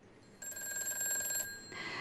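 A telephone ringing for a viewer's call-in on a live broadcast about stock trading, a single electronic ring burst heard faintly and alone.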